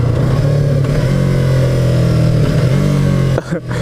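A 2015 Yamaha R3 300cc motorcycle engine revving loudly and steadily up close, its pitch wavering slightly before a sudden brief drop near the end.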